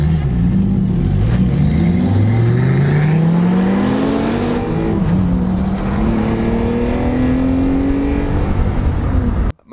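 A Lamborghini accelerates hard from a standstill, its loud engine note climbing steadily through the gears with rising whine and roar, heard from inside the car for nearly ten seconds.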